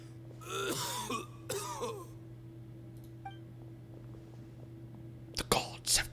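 A character coughs during a Genshin Impact cutscene, a few sharp, rough bursts near the end over a steady low game hum, with soft breathy vocal sounds earlier.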